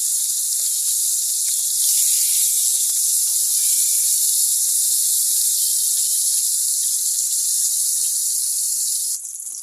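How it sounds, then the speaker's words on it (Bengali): A steady, high-pitched sizzle of fish frying in hot oil holds evenly throughout, with no voices and only faint small crackles. "এখন আমি কার্পু মাছ ভেজে নেব।"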